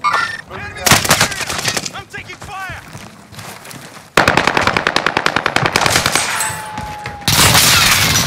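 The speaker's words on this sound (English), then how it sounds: "I'm taking fire!" Gunfire in a Warzone Rebirth match: several sharp bursts of automatic rifle fire, with one long rapid rattling string in the middle and a loud volley at the end. Voices are heard between the bursts.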